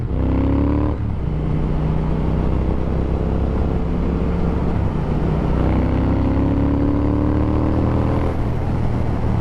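A Triumph Speed Twin motorcycle engine pulls hard and accelerates, its loud, steady exhaust note rising in pitch, briefly dropping at a gear change near the start, then climbing again throughout.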